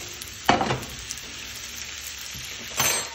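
Chicken wings sear in a preheated pan, sending up a steady frying sizzle with a couple of louder bursts as pieces hit or shift in the hot pan.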